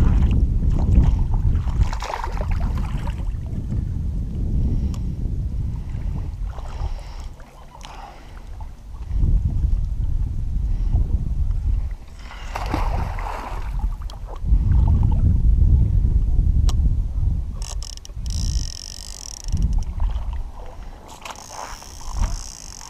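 A kayak out on the water used to run fishing lines for flathead catfish in Arizona, with low rumbling hull and paddle sloshes in waves, buffeted by heavy wind noise.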